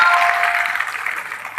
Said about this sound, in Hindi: इतनी ताली से काम नहीं चलेगा, जोरदार ताली बजानी पड़ेगी